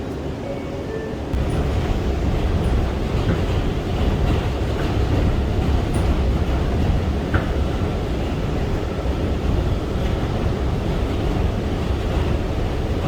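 An R179 A subway train in New York rumbles along steadily toward Howard Beach-JFK Airport, a loud continuous roar of wheels and motion with faint rattles and squeaks throughout.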